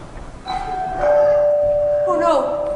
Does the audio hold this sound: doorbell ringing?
yes